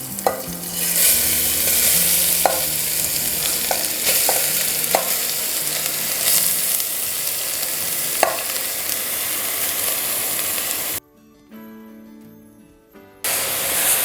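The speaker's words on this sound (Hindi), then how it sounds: "गाजर को हमने घी के साथ में थोड़ा सा भून लेना है।" Grated carrots frying in two to three tablespoons of ghee in a pressure cooker, a steady loud sizzle with occasional stirring scrapes, cutting out briefly near the end before resuming.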